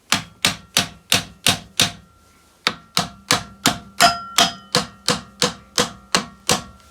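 Repeated tapping on the starter motor of a Yamaha XT125X motorcycle, a series of sharp close knocks, six quick ones, a short pause, then about ten more in an even rhythm.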